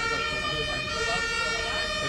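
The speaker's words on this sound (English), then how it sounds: "there's I think it's an ambulance trying to get by, but there's a shit ton of traffic in front of it" An ambulance siren wails continuously in traffic, a steady layered tone held close and fairly loud over a dense bed of road noise throughout.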